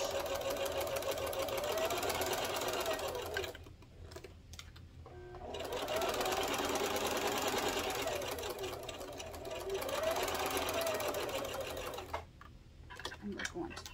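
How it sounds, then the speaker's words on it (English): A home sewing machine fitted with a walking foot stitches a fabric car trash can with a steady, close whirring hum. It runs in three long bursts separated by brief pauses, and a person talks quietly underneath. "going to sew all the way around except for the very bottom"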